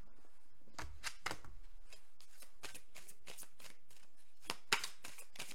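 A deck of oracle cards being shuffled by hand, a quick series of crisp riffling snaps and slaps in an uneven rhythm, close and quiet, until a card drops out.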